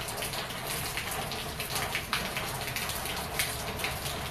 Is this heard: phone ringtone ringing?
no